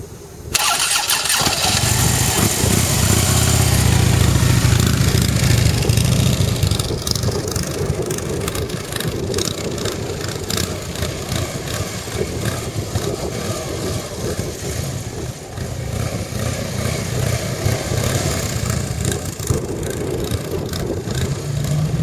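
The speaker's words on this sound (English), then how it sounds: "the best thing to do is try turning the circles with the bike straight up at low speed" A motorcycle starts up, then holds a steady, moderately loud engine note as it rides slow circles upright at low speed, controlled on the clutch.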